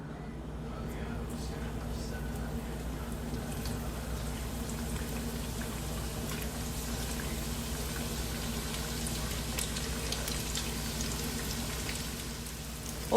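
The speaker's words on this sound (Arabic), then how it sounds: "وطريقة القلي مالتها كل سهلة. سخنا الزيت وحطيناها والنار وسط." Sambousek pastry rolls frying in hot oil over medium heat, a steady crackling sizzle that stays even and continuous throughout.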